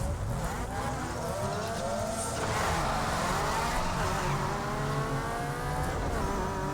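Street racing cars in Need For Speed Underground 2, with engines revving and whining through rising gear sweeps, a continuous roaring drone of tuned motors at moderate volume.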